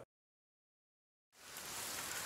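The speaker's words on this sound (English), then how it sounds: "Oh, it's raining." Steady rain hissing down in the survival video game The Forest, a dense broadband wash that starts abruptly after a moment of silence and continues evenly, with no talk over it.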